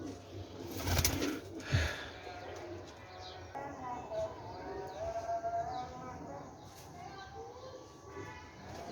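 Royal Teddy pigeons cooing in a loft in Rawalpindi, soft repeated coos and faint chirps under someone talking, with brief handling noises near the start.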